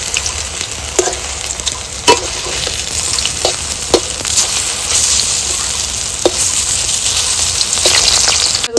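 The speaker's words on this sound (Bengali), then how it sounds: "বড়াগুলিকে খুন্তির সাহায্যে উল্টে পাল্টে আমি ভেজে নেব" Kochu leaf boras sizzle steadily in hot white oil, with scattered sharp clicks and scrapes as a spatula turns them. The frying is close and continuous, with no voices.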